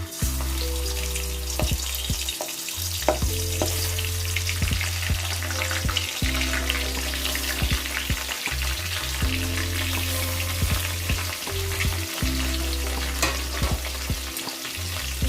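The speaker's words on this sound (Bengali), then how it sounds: "চিংড়ি মাছটা অল্প আমি একটু ভেজে নেব।" Prawns fry in hot oil in a home kitchen, a constant close sizzle and crackle over a low steady hum, with occasional stirring.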